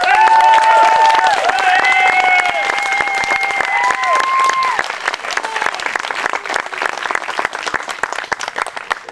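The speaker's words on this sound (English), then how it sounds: "A big round of applause for Chase." Audience applause and cheering for Chase at a Doktor Kaboom live science comedy show, loud dense clapping with whoops from the crowd over nine seconds, tapering slightly toward the end.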